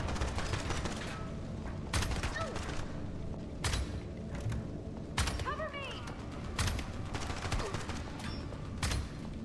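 Gunfire in the roguelite infiltration video game Blackout Protocol: repeated sharp shots land at steady intervals over a busy game background, with a voice talking.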